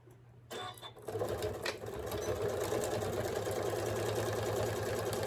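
A sewing machine straight-stitches a fabric cover for a solar power bank, starting after a brief pause and then running in a steady, close, rapid mechanical whir.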